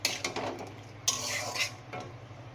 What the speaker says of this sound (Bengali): লবণটা দিয়েও ভালো করে কষিয়ে নেব।